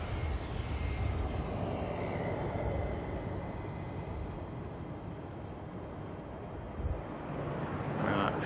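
An ATR turboprop airliner takes off at Auckland Airport at night, giving a broad, steady engine roar that slowly fades and thins as the plane climbs away, heard from a distance with no talking.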